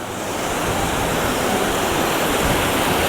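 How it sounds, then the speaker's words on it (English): Snowmelt runoff water rushes in a mountain stream on a hike in the Picos de Europa, a close, steady, broad roar of flowing water with no talking. "This is all the runoff from the snow at the top."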